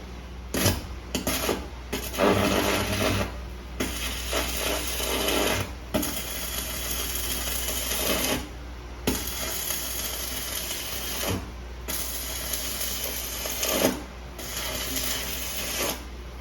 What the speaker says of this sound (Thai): ครับเดี๋ยวเราทดลองเชื่อมกันดูนะครับ